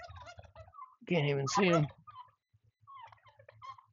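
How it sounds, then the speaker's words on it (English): A turkey on a ranch lets out a loud, rapid gobble at close range, and soft clucking from farm fowl sits in the background while a person speaks briefly. "There's a turkey down in there."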